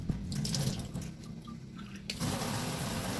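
Running water splashes over fresh serpentina leaves being rinsed by hand, a close, uneven gush that briefly eases and then swells again, with no talk.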